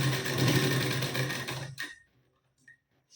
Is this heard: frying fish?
no